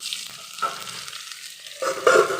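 Potato, onion and green chilli frying in a hot pan, a loud bubbling sizzle with stirring scrapes that fades briefly and then surges again near the end.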